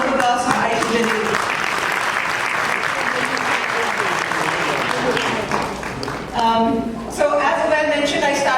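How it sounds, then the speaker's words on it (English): A fundraiser crowd for a cancer hospital in Dallas breaks into loud, sustained applause, full and close, thinning near the end as voices come in over it. "so a round of applause for Aisha Jalil."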